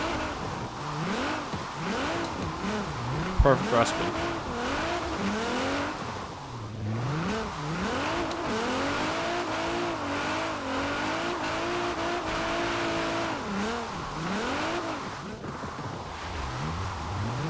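A 1000 hp Nissan Pulsar GTi-R driven in the rain in Forza Horizon 4, its engine rising and falling through repeated revving sweeps and gear changes, steady and close, with a brief voice heard once.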